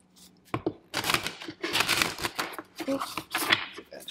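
Tarot cards are shuffled close by in quick, rapid riffling bursts that keep up for several seconds, clear and fairly loud, with a voice faintly present.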